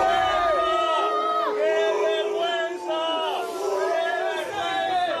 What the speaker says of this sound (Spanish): cómo gritaban, cómo abucheaban los aficionados a la llegada de los jugadores al hotel en Lisboa